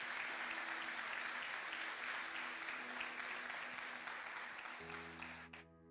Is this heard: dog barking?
no